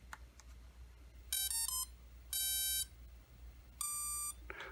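Electronic speed controller of a Hanvon GOGOBIRD Brown Eagle Model 1020 RC plane powering up, playing a short series of clear high beep chimes in three separated bursts over quiet background hum.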